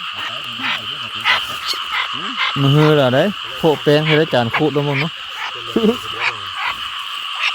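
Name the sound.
frogs croaking in flooded rice fields at night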